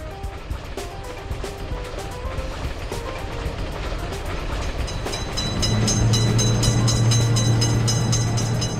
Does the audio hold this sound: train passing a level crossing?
yes